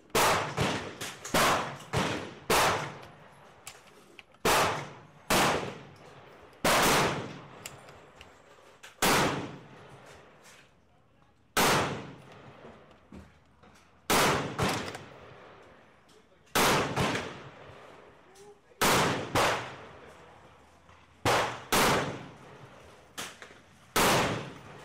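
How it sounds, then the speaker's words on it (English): Dense metallic clicks and clacks as cartridges are loaded into the magazine of a Dutch Model 1871/88 Beaumont rifle and the action is cycled, sharp close snaps coming in irregular bursts across the whole stretch. "I'll load up the magazine to see how they feed"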